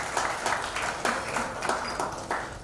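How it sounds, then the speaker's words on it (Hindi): An audience applauds at a film music launch event, a moderately quiet spell of clapping with uneven rhythmic swells, some individual claps standing out, and no talk over it. "जोरदार तालियां"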